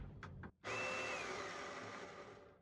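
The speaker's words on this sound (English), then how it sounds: "I'll show you what that looks like once I grind it here in a sec." An electric grinder whirs at home as it grinds coffee beans for espresso, starting with two short taps, then a steady loud motor roar that slowly fades, heard alone.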